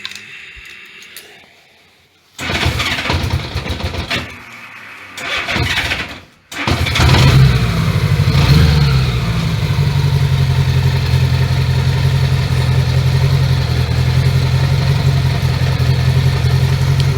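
Honda Goldwing GL1100 motorcycle engine cranks in short bursts, briefly catches, then starts and settles into a steady, loud, close idle with a low rumbling tone.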